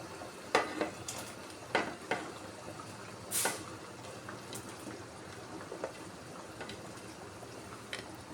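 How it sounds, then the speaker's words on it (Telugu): Paneer is dropped into simmering masala curry in a pan, with a low bubbling sizzle broken by several soft clinks and stirring scrapes, fairly quiet and close. "ఇలా మరుగుతున్నప్పుడు పన్నీర్ వేసేసుకుందాం."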